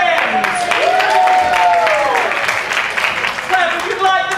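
An audience claps for lab assistants in a broad, steady wash close by, with a voice speaking over it part of the time.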